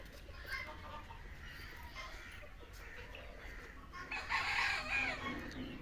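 Free-range chickens about two and a half months old on a farm in Nilphamari cluck at moderate distance, with a rooster's crow rising louder near the end over faint background noise.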